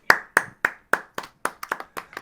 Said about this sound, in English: I got the applause going from everyone.